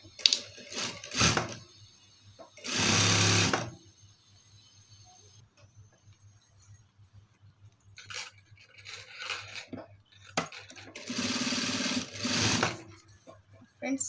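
Sewing machine stitching piping onto the straight sleeve of a chudidar, heard as two loud, short bursts of whirring stitching separated by quiet gaps, close up with faint handling noise and no speech.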